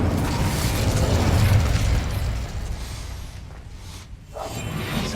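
Incendio fire spell cast in the video game Hogwarts Legacy, a loud roaring burst of flame with a rumbling low end that rushes for a couple of seconds and then thins out, with no voices.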